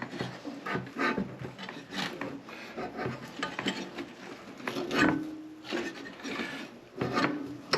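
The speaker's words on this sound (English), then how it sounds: "so I like to score it up, get the paint off, so I got a nice ground connection" Paint being scuffed off metal with sandpaper or Scotch-Brite to make a ground connection, a series of quiet irregular rasping rubbing strokes at close range.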